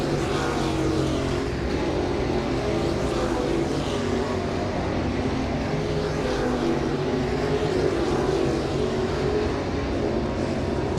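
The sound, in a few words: late model race car qualifying lap at Volusia Speedway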